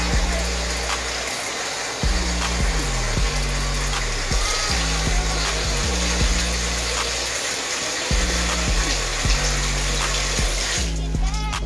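Hot water is poured from a faucet into a pan of cube steak gravy, a steady close rushing stream that runs through most of the stretch with brief breaks and low thumps of handling.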